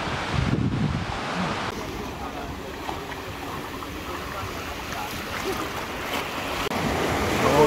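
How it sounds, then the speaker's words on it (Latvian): Ocean waves wash and surge around a sailing boat off the Seychelles, a continuous broad rush of water and wind noise with a stronger splash early on, swelling again toward the end. "Lielais vilnis."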